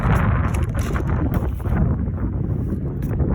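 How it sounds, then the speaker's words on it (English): Steady wind buffeting the microphone, a loud continuous rumble with gusty flutter throughout and no voices. "It's really windy here."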